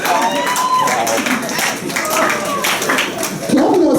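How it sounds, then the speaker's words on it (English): A comedy roast crowd claps and cheers loudly and continuously, a dense, near wash of applause with voices mixed through it. "Clap it up"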